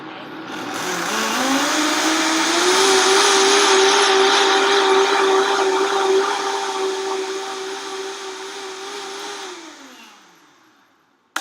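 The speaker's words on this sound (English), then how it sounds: "You're just going to put those 2 ingredients in your blender mug, and then you're just going to blend it up." A Vitamix high-speed blender whirs loudly as it blends almond butter and water into almond milk, its motor pitch climbing and holding steady before winding down and stopping at the end.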